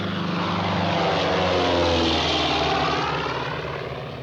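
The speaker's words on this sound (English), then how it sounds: "The plane to Lisbon." A propeller airplane's engine drones loud and steady, a throbbing roar that swells slightly and then eases off across several seconds, with no voices over it.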